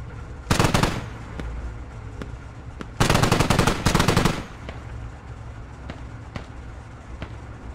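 Rifles firing in the military shooter Squad, with two loud, close bursts of rapid automatic fire, one short and one longer, and faint single shots and distant pops in between.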